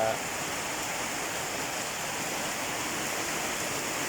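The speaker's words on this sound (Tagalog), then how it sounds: "Raining in the province." Heavy rain pours down in the province in a steady, even hiss with no pauses, close and loud throughout.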